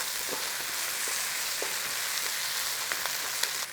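Spices and garlic sizzle steadily in a hot pan, a dense continuous frying hiss with a few faint stirring clicks, close and fairly loud, no voices.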